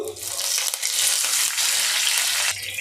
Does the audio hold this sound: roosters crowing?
no